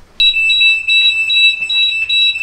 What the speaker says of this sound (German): Oh, Alarm, Alarm,